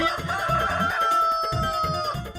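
A big red rooster crows in a drawn-out call, loud and close, over a rhythmic low-end background.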